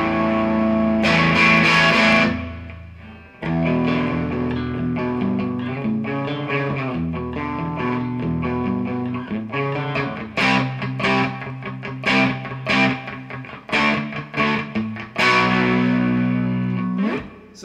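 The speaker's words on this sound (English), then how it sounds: "it's got it's kind of almost breaking up kind of sound, you know, between distortion and it's a really good crunch sound" An electric guitar played through the Vox crunch channel of a Pod HD500x into a DT50 amp gives a loud, gritty, breaking-up tone, with sustained chords followed by choppier, rhythmic strums.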